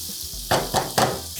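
Sliced onions stirred with cumin seeds and cardamom in a hot pan of oil: three distinct scraping clatters of the spoon against the pan over a steady sizzle.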